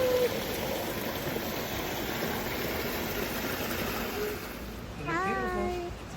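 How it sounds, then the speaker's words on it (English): A small mini waterfall pours in a steady broadband rush that runs throughout, with a voice and higher sounds breaking in near the end. "It's a little mini waterfall."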